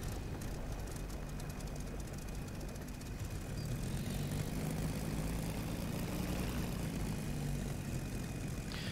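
A WWII fighter's piston engine in a flight video game drones steadily as the plane sits on the runway, a continuous low rumble with a faint whine above it and no talk.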